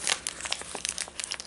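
Plastic packaging of an MRE flameless heater from an Ameriqual ration crinkling and crackling as it is handled, close and in quick irregular bursts, with no talk.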